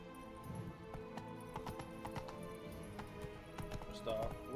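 Roach the horse gallops in The Witcher game, quick hoof clip-clops running under game music with a voice talking over them at moderate level.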